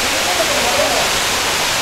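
Jalagampari waterfall near Tirupathur pours herbal water down from the mountain, making a constant loud rushing roar with no breaks.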